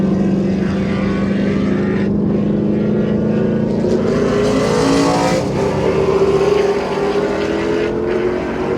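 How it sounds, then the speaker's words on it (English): A fast car comes up from behind on a race track while riding in a 2020 Shelby GT500, with loud sustained engine roar and rising, shifting engine tones throughout. "Here's a passing zone and a fast car coming up behind."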